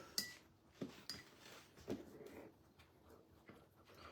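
A spoon stirring biscuit dough made with butter and honey in a bowl, giving a few soft clinks and scrapes against the dish over a low, quiet background.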